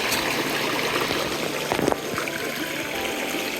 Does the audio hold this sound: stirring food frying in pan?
no